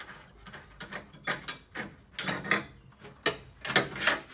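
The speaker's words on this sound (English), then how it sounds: "this is my new Astro nutsert gun" An Astro nutsert rivnut gun works close-up with a series of clicking, ratcheting metallic clunks and squeaks in an irregular rhythm, fairly quiet.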